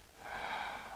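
A single soft exhalation, a faint, airy breath out through the nose or mouth lasting under a second, close and quiet during an abdominal breathing exercise.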